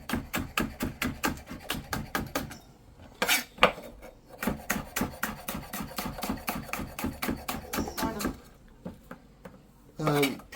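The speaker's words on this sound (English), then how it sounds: "and properly chop this" A red pepper being chopped for a venison steak pie, knife hitting a cutting board in fast, steady, close strikes that pause briefly and resume, with occasional speech.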